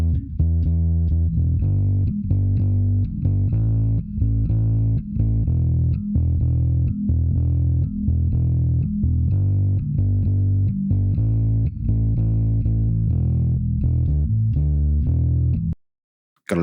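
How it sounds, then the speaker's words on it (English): Bass guitar recorded through a bass amp, playing a continuous, gritty, somewhat muddy low-end line with steady notes and brief gaps, loud and close, ending in a short silence. "the bass amp on its own sounds like this."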